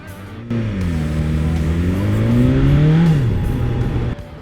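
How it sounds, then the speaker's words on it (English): A 2020 BMW S1000XR motorcycle engine runs steadily close by in city traffic with a deep, throbbing gurgle. Its pitch swells slightly, then settles back before the sound cuts off. "I love the way it just gurgles at idle."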